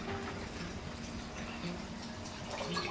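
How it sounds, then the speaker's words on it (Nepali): A cup of water is poured into a cooking pot on medium-low heat while making gwarcha (paan roti), a continuous splashing, bubbling wash of sound heard close up with no speech. "अब यसमा एक कप पानी राखिदिउँ"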